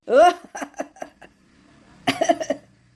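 A short burst of coughing, then a pause and a second cluster of harsh coughs, close and loud with no speech.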